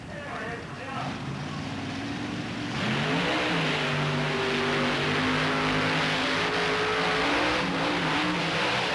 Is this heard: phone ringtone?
no